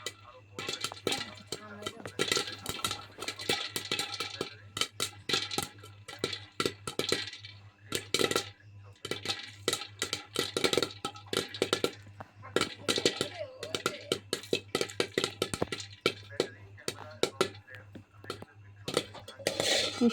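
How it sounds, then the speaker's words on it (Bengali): Corn kernels pop inside a covered pot, with a dense run of sharp, irregular cracks and clicks, some in quick clusters, continuing steadily at close range. "ভুট্টাগুলো ফুটে উঠেছে, এখন ঢেকে দিতে হবে। এই যে আমি ঢেকে দিচ্ছি, দেখেন কিভাবে ফুটতেছে।"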